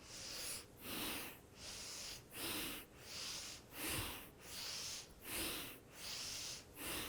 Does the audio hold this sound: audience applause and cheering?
no